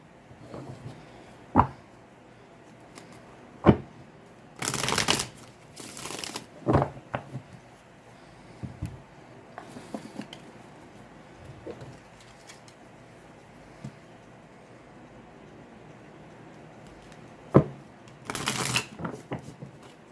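A deck of cards shuffled in a quiet room, a few brief riffling bursts separated by long pauses, with scattered soft clicks and taps between them.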